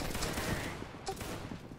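A musket volley fires in a Napoleonic-era multiplayer battle game with Prussian, Saxon and Bavarian line infantry. It sounds as a dense, rolling crackle of many shots merging into one sustained roar, with a sharper burst near the middle.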